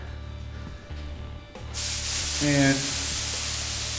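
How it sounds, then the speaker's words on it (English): A Home Depot paint sprayer hisses loudly and steadily as it coats walls inside a haunted house attraction, with a short spoken word just before the spray starts. "yeah, we're spraying these walls"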